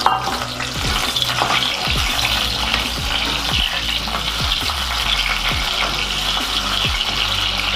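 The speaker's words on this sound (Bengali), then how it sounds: "এখানে একটি পাত্রে তেল গরম করে ওই মাখানো আলুগুলো দিয়ে দিচ্ছি।" Spiced, marinated potatoes fry in hot oil for Old Dhaka-style kacchi biryani, a loud, dense, steady sizzle up close with regular rhythmic stirring strokes cutting through about once a second.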